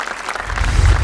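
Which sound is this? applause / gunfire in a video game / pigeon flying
applause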